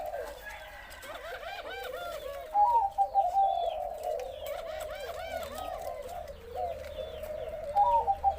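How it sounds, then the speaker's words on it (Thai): A spotted dove gives repeated cooing calls, a close series of soft, rolling phrases with short pauses between them, over faint background hiss. "ดูจากวันนี้ขันทั้งวันเลย นกตัวไหนเข้าใกล้ก็คูเลยค่ะ"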